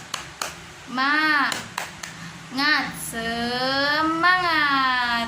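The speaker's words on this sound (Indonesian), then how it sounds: "Yuk, 1, 2, 3, tepuk semangat." A classroom of children claps together on a counted cue, sharp hand claps in a short rhythmic burst, with a young teacher's voice and children's chanting voices over and between the claps.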